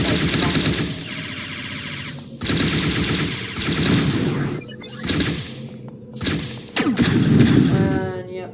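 Repeated gunfire from a shotgun in the Unity FPS Microgame, loud bursts of shots in quick volleys with short gaps between them, close and punchy.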